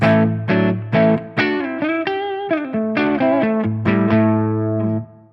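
Electric guitar on its neck pickup through a captured amp at the first gain level, played as a run of bright, ringing plucked notes and sustained chords, loud and alone with light crunch.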